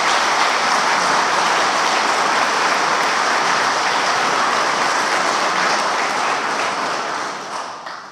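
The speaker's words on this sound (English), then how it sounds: "Should give the young man a little round of applause there." A memorial gathering fills with a dense, steady roar of audience applause, even and unbroken for several seconds before it gradually tapers off toward the end.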